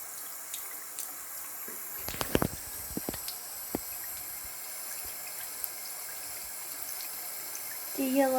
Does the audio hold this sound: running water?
yes